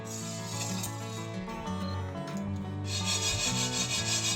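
Dry sago pearls are stirred in a pan, giving a steady close-up rubbing and rattling scrape, with brief louder rustles partway through.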